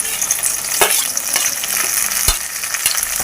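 Onions, mustard seeds and green chillies fry in hot oil with a steady, dense sizzle, broken by a few sharp clicks and scrapes of stirring.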